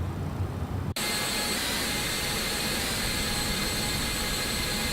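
The Pratt & Whitney jet engine of an MD-11F freighter in X-Plane 12 cuts in abruptly after a quiet moment, then roars on as a loud, steady broadband whine with a high tonal edge.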